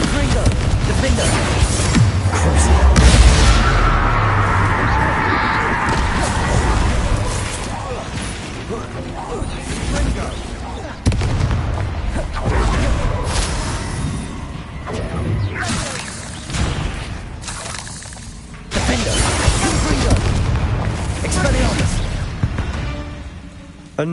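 Spells in the video game Hogwarts Legacy produce booms, whooshes and crashing blasts one after another, loud and close, with voices talking over the action.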